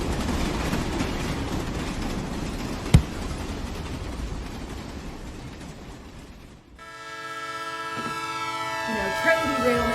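A train rumbles along steadily, then a loud, sustained multi-tone train horn blares for the last few seconds, drowning out the earlier rolling noise.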